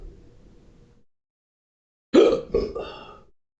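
Hiccups from a person during a hot sauce challenge: after a quiet pause, two or three sharp, close, throaty bursts in quick succession.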